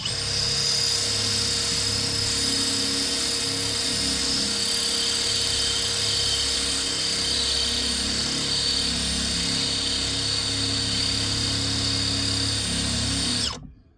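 An electric drill whines steadily at high speed into hard metal for many seconds, loud and close, during a transmission swap on a 1962 Ford Thunderbird, then cuts off abruptly.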